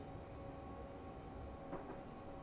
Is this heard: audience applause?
no